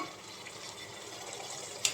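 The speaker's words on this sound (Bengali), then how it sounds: "এই যে মুরগিটা প্রায় কষানো শেষ এখন একটু পানি দিয়ে দেবো" Water pours into a pot of chicken curry that is nearly finished braising, giving a steady, soft, close-up hiss with a brief brighter splash near the end.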